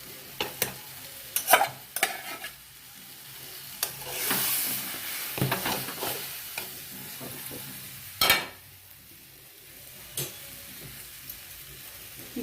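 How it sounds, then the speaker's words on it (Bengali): Raw mango pulp cooks in a wok on a gas stove, a soft continuous sizzle broken by repeated scraping stirs and clacks of a spatula against the pan. "গ্যাস অন করে কড়া বসিয়ে দিয়ে আমের শাঁসটাকে আমি কড়ার মধ্যে ঢেলে নিয়েছি।"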